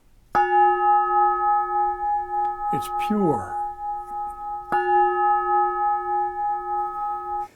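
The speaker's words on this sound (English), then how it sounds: "this is the Peter Pan clarion bells" A bell made from a sanded truck brake drum rings with a bright, long, pure sustained metallic tone, is interrupted by a brief voice, then is struck again and rings on clearly.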